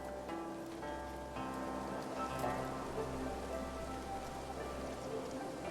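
Steady rain in the video game Infinity Nikki, a continuous patter on surfaces at an even level throughout, with soft tonal game music threads layered underneath and no speech.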